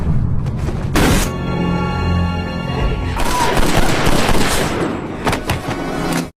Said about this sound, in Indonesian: Kemudian Matt mengambil pistol yang terjatuh dan menembak orang yang menyandra Lucy.